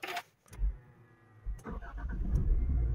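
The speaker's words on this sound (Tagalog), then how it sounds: "mapapaandar mo na yung sasakyan" A Nissan Terra SUV is started with a keyless remote: a brief click, then the engine cranks, catches and settles into a steady, close idle rumble, with no voices.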